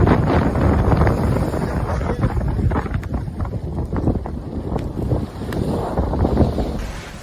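Strong wind buffets the microphone aboard a sailboat in rain, with rushing water and sloshing waves all around, loud and continuous throughout.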